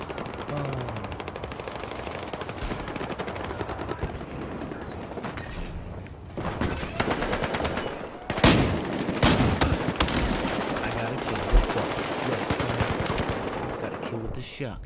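Continuous gunfire rattles through a Battlefield Hardline match, automatic bursts and single shots crowding together with sharp louder cracks standing out near the middle, dense and close throughout.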